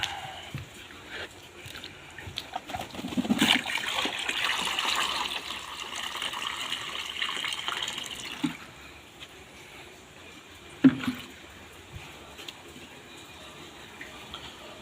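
Water runs steadily into a basin, a broad gushing pour that builds over several seconds, eases off, then returns with a brief splash near the end.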